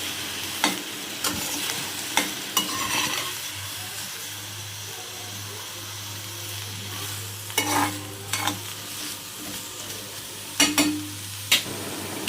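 Bitter gourd fries in a pan with a constant crackling sizzle and hiss, broken by clusters of scraping, clattering stirs, over a low steady hum that sets in partway through.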